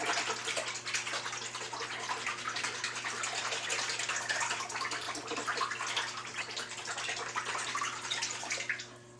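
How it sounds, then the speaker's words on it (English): Paper fibers suspended in a vat of water being stirred by hand, a steady close-up sloshing and swirling of water that continues without pause, with a low constant hum underneath. "I'm just going to stir these fibers and get them"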